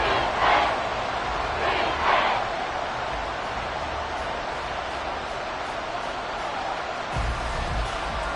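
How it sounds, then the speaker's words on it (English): A stadium crowd at an American football game involving the Dolphins roars in a steady, dense wash of noise, with a few louder swells of cheering near the start and toward the end. "this crowd doing their best to make a lot of racket"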